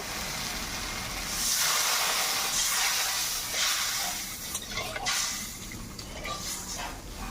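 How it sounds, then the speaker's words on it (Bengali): A pan of fish curry broth with poppy seed and mustard paste boils steadily, giving a continuous bubbling hiss throughout. Nobody speaks. "ঝোলটা ফুটে গেছে"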